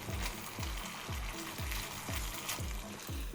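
Cabbage Manchurian sauce thickened with cornflour cooks in a pan, giving a close, steady sizzle and bubbling with regular soft low thuds about every half second, no voices.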